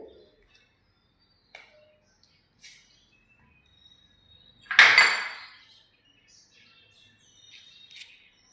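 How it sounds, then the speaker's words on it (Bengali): A spoon scrapes and stirs aloe vera gel into a paste in a bowl: a few faint clinks, then one louder scraping burst and softer scrapes, in a quiet room. "চামচ দিয়ে একটু কুড়িয়ে মিক্সড করছি।"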